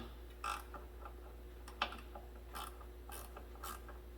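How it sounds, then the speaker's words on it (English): A ratchet working 10mm bolts out of the wiper transmission on a 2014 Buick Encore gives faint, irregular clicking bursts, several short ratcheting runs spread across a quiet background. "Remove the 2 bolts."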